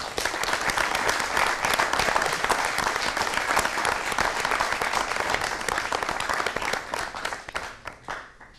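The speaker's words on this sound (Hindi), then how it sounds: "अपने लिए एक ज़ोरदार तालियां फिर से बजाइए" A large audience applauds loudly and steadily for several seconds, a dense wash of clapping that begins fading toward the end.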